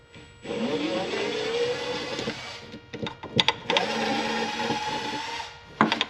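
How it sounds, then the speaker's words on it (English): Nuts being worked off the muffler housing of a 2005 Nautique 210 boat with a tool whose whine rises and steadies, broken by sharp metallic clicks and clanks, all close and fairly loud with no talking. "now we're just pulling these nuts off the back of this muff housing here"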